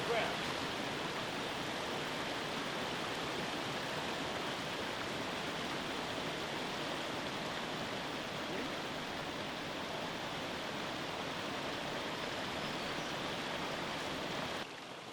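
A creek rushes continuously and fairly loud, a dense steady wash of flowing water with no break, ending with a slight drop in level at the very end.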